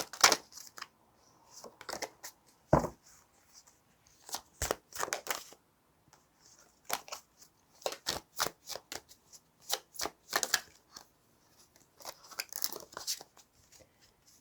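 Tarot cards are shuffled by hand in irregular bursts of crisp riffling and slapping, close up, with short pauses between bursts and no talking.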